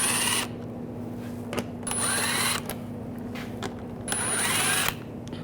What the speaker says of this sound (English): Using a 7mm socket, take these screws out.